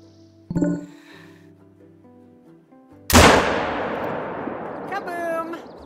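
A rifle fires once in a moose-hunting video game, a sharp, loud blast that rolls off into a long echoing decay, preceded by quiet in-game tones and followed by a faint rattling tail.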